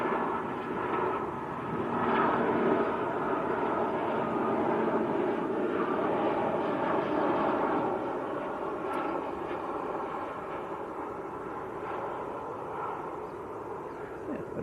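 A Finnair airliner passes at Manchester Airport, a faint, steady distant engine roar that rises gently in the first couple of seconds and then slowly eases away.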